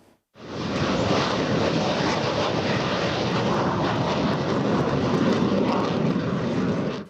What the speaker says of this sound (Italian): L'AMX si alza in volo per l'ultima volta.